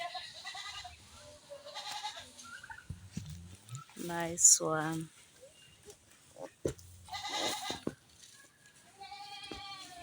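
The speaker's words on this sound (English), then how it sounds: "A male goat." A male goat in a village bleats in loud, wavering cries, with several calls from nearby livestock spread through the scene while someone talks briefly between them.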